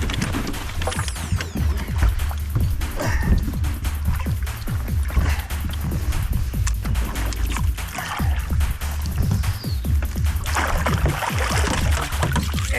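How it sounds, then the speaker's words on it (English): A boat trolling motor hums low and steady beneath continuous splashing and lapping water close by, with no speech. "Trolling motor."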